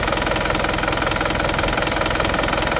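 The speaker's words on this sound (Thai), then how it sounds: "ดูห้องเครื่องครับผม นี่เครื่องยนต์ทำงาน" The diesel engine of a 2003 Isuzu D-Max pickup truck idles close by with a steady, rapid knocking rumble, unbroken for the whole stretch.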